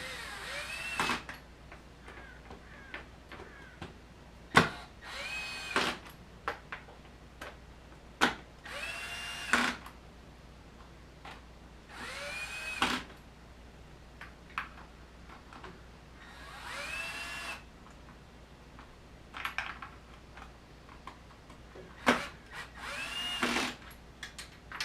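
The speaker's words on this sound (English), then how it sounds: "just take and tighten these Phillips head screws back up" A power driver runs in short bursts, tightening Phillips head screws on the plastic air box of a 1997-2003 Honda Valkyrie motorcycle, with repeated brief whirs separated by pauses and no talk.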